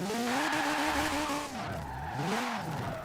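Car tires squeal in a long, loud skid in Forza Horizon 4, a wavering high screech over a steady engine roar that dips briefly midway, then swells again.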